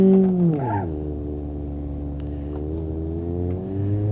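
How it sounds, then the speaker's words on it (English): The engine of an Ibishu Hopper Classic in BeamNG.drive, worn out from hard running, drops from a higher whine into a low, steady, labouring drone that holds strained and loud throughout. "This engine is hurting. We have been running this engine really hard."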